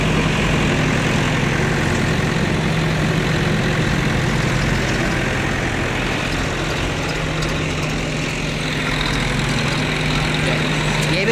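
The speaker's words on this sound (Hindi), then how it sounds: "गाइस अपन तो ट्रैक्टर ही चलाएंगे बढ़िया," An Eicher 380 Super DI tractor's diesel engine runs steadily with a low, continuous rumble and a constant drone, loud and close throughout, with no talk over it.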